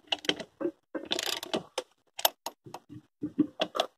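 A hand die cutting threads on a car wheel stud, a close series of short metallic ratcheting clicks and scrapes in uneven bursts separated by brief silences.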